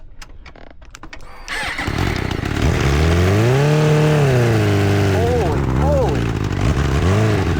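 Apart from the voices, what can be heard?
homemade 130mph dirtbike engine revving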